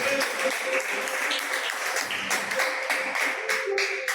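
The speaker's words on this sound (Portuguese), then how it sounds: "Podemos sentar aplaudindo o nome do Senhor Jesus." A church congregation applauding, dense and continuous with crisp individual claps standing out near the end.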